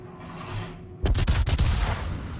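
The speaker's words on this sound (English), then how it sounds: "Okay, well, I got a few shots out there." Ship cannons firing in a naval battle video game: a rapid volley of booming shots erupts after a second of ambient rumble, loud and close with a lingering roar.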